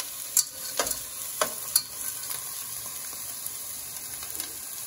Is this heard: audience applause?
no